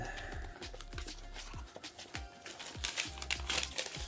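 Paper cushioning crinkles and rustles as a GoPro Hero9 Black bundle kit is unboxed, with irregular crackling bursts and soft handling noises close up, growing louder toward the end.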